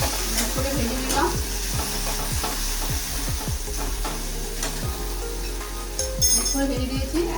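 Okra frying for dahi bhindi in a pan, with a steady sizzle and close, repeated stirring scrapes and light clinks of a utensil against the pan.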